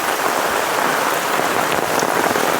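Heavy monsoon downpour in the Konkan countryside, a dense steady hiss of rain pouring onto surfaces nearby, unbroken and loud with no voices.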